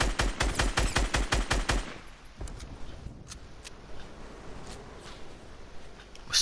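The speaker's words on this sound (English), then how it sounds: "We're still getting sniped at." Rapid gunfire in a Fortnite Battle Royale match: a fast burst of about a dozen loud shots for two seconds, followed by scattered fainter cracks and footsteps over quiet game ambience.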